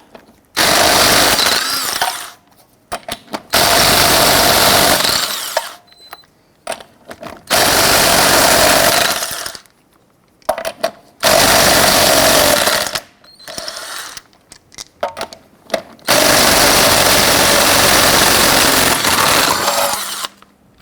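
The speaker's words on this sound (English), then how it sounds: "Using your 19mm socket, loosen and remove the lug nuts." Power tool with a socket loosening and removing lug nuts on a 1999-2004 Jeep Grand Cherokee wheel, with several loud sustained bursts of whirring separated by short pauses.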